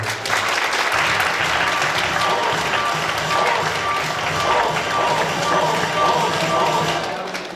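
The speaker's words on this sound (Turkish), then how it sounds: "bir alkış bekliyorum sizden" Crowd at a hairdressing awards ceremony applauds loudly and steadily, dense clapping mixed with some crowd noise, faint cheering and low thumps, sustained for several seconds in a large venue.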